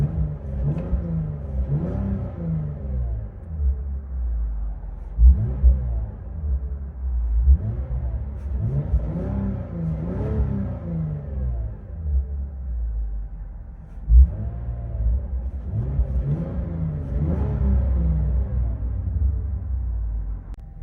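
A Lexus IS 350 with a 3.5L V6 and valved aftermarket exhaust, valves open, revs repeatedly: loud, close, deep rumbling blips that rise and fall in a steady rhythm, with no voices.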